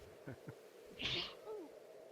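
A single sudden sneeze burst near the middle, fairly loud against a quiet room with faint voice sounds before and after.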